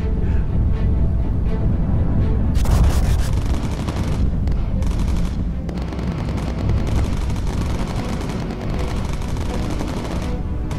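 Bomber Crew, the bomber aircraft game: loud, sustained bursts of machine-gun fire rattle in long runs over a steady engine drone, with short pauses between volleys.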